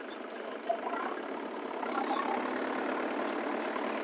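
A Mahindra tractor fitted with cage wheels idles and is put into first gear in a muddy paddy field, a steady mid-pitched engine drone that grows slightly louder partway through. It runs alone with no talk over it.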